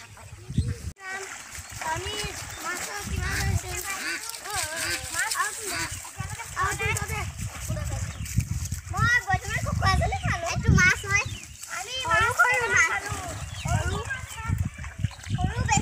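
Children swimming in open water splash and shout, their excited voices and chatter close and constant over irregular splashing throughout.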